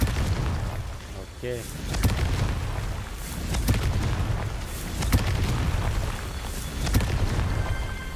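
Confringo fire spell explosions in Hogwarts Legacy go off as repeated booming blasts roughly every one to two seconds over a constant game soundscape, with a brief spoken word near the start.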